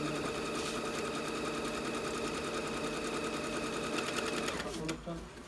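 A Tugi Advance 20 sewing machine stitches in a fast, steady mechanical rattle, close and continuous, then slows and stops near the end.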